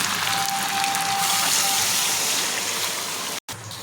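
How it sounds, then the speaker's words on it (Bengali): Water pours steadily into a cooking pan holding papaya and potatoes, a loud, close, continuous gushing that stops abruptly near the end. "আমি এখন এই যে জল দিয়ে দিচ্ছি, কেননা পেঁপেগুলো আলুগুলোকে সেদ্ধ করতে হবে।"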